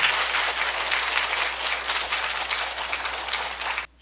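Congregation applauding a guest speaker in a Catholic parish church before a Bible study session, sustained warm clapping from a gathered crowd that holds steady and then cuts off abruptly near the end.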